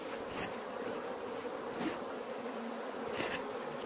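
A honeybee swarm at a hive gives a dense, continuous buzz throughout, with individual bees droning past close by now and then; no speech.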